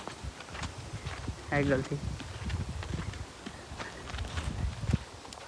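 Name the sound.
mare's hooves clip-clopping as it dances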